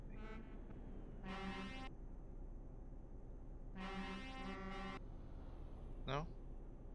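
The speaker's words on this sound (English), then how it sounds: "Somebody wants to honk at me, I'll let them honk at me." Other trucks honk in a truck driving simulator game, with two long sustained horn blasts a couple of seconds apart and a brief rising tone near the end, all at moderate volume over steady engine hum.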